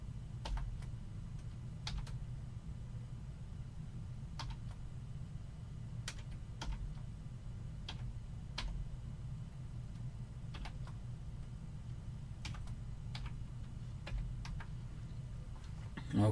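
Someone types a password on a computer keyboard: scattered, quiet key clicks in small irregular clusters over a steady low hum, with no talking.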